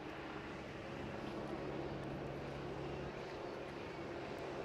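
A Westland Wasp helicopter moves into a hover at an air festival, its steady droning engine and rotor hum heard from a distance, continuous and even throughout.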